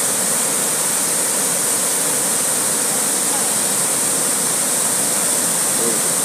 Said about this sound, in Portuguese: as águas começam a chegar aqui na barragem, já está derramando água bastante e aumentando.